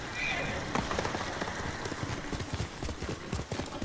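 Hooves of a horse clip-clopping at a quick gallop in a video game, steady repeated hoofbeats close up with rain-like background hiss and someone talking over them.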